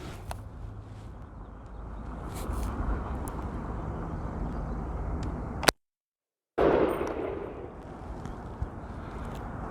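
A PSA GF3 AK rifle firing outdoors at a range, one sharp loud gunshot cracking out in the middle against a background of wind and ambient noise.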